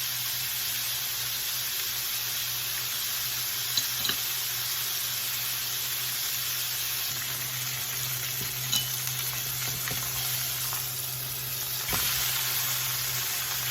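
Chicken and bacon browning in a pan sizzle in a steady, even crackle, with a few faint clatters of stirring and no talk.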